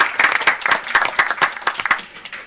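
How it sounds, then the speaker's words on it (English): An audience at a city commissioners meeting claps steadily, a dense patter of hands in a public hall that holds at a fairly even level and starts thinning toward the end. "You deserve applause."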